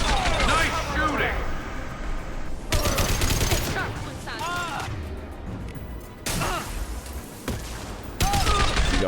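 Rapid gunfire bursts and impacts from a Mass Effect 2 squad firefight come in repeated volleys, loud and close, with characters' voices between the shots.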